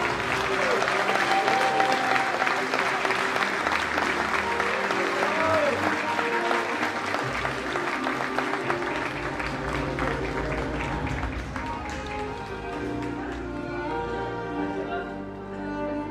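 Audience applauding the newly named queen of a lace and embroidery festival, dense sustained clapping from a crowd that gradually thins over about sixteen seconds, with music and murmuring voices underneath.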